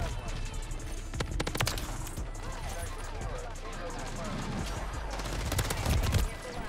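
Dense, rapid gunfire from a gun in Call of Duty: Modern Warfare 3 multiplayer on a new Season 2 map rattles on continuously, loud and chaotic, with a voice talking over the shooting.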